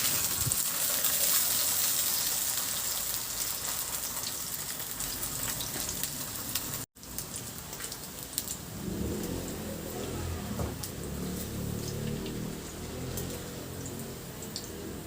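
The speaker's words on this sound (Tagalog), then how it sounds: "maglagay na ako ng mantika at iprito ko na yung sliced ham" Sliced ham fries in cooking oil in a pan, a continuous close crackling sizzle that stops for a split second partway through, then resumes with a soft bubbling underneath.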